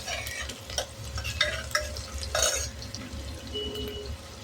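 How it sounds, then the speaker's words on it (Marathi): Onion being sautéed in a pan for a drumstick amti, soft sizzling beneath repeated stirring scrapes and clinks of a spoon, close and fairly quiet with no voices. "कांदा छान आपण परतून घेणार आहोत।"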